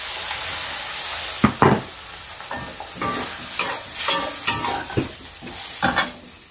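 Vegetables for a glass-noodle, potato and luffa soup sizzle loudly in a pan as a little water is added, with repeated scraping stirs and bursts of hissing steam throughout.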